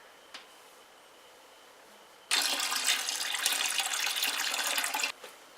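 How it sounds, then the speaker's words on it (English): Beer wort pours slowly into a fermenter as a steady, rushing splash of liquid that starts abruptly, runs for about three seconds at an even level, then stops, with faint small knocks before and after. "we are going to slowly start pouring our wort"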